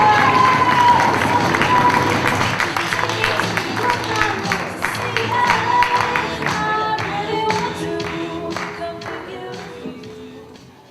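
Audience at a slam poetry contest clapping and cheering for a poet, loud at first and gradually fading, with sustained musical tones running underneath.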